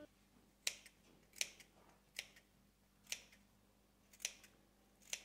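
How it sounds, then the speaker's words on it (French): Scissors snip notches into the curved seam allowance of a fabric baby apron, six short crisp cuts spaced about a second apart, close and fairly quiet over a faint background hum. "si on crante comme ça et qu'on réduise la couture"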